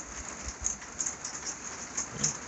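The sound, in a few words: rain falling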